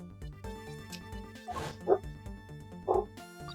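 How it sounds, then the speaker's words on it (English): A dog in the game Ace Attorney Investigations: Miles Edgeworth gives a few sharp barks and yips over steady in-game background music, with two louder bursts spaced about a second apart. "That sound, the barking."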